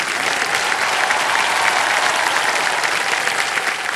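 Sustained, dense applause from a studio audience on a Hindi TV quiz show set, loud and steady throughout with no voices.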